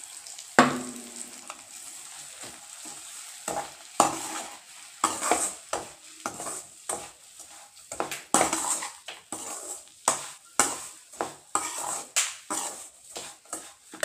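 Semolina (rava) roasting in hot oil for village-style rava kichadi, with a soft sizzle under frequent spoon scrapes and clinks against the pan, close and irregular.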